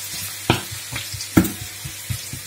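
Chopped onion for broccoli croquettes sizzles softly in a pan, a steady low fry broken by a few sharp stirring scrapes and clicks, close and fairly quiet with no talking.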